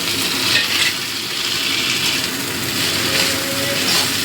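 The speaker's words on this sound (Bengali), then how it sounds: "টমেটো কুচিটা দিয়েও একটু ভেজে নেব।" Chopped tomato frying in a pan for a Bengali amudi fish chorchori, giving a steady, close sizzle with faint stirring scrapes throughout, no talking.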